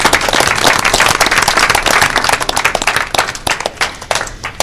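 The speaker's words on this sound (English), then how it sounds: "I think they all deserve a big round of applause." Attendees at a college board of trustees meeting break into a round of applause, close and fairly loud, with uneven, fluttering clapping that thins toward the end.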